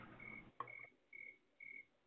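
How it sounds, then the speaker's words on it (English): Crickets chirping at night, a faint, thin trill repeating in short, evenly spaced bursts against a quiet background. "Can you hear the crickets?"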